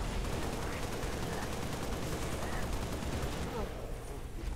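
Machine gun fire in the video game Halo Reach roars as a dense, continuous burst of rapid shots that fills the whole stretch and eases slightly near the end.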